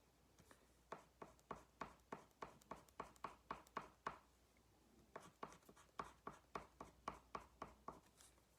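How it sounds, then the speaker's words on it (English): A yellow crayon colors a paper star with short, quick strokes pulled in one direction, scratching close and faint in two even runs separated by a brief pause. "when you're coloring on these points, you want to just pull in one direction"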